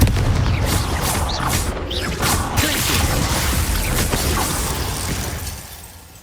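A Bombarda blasting spell erupts in Hogwarts Legacy, with dense, loud crashing bursts and shattering debris that roll on steadily for several seconds before tapering off at the end.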